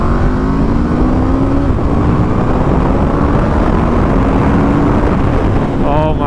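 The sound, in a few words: Aprilia RSV4 1100 motorcycle engine while riding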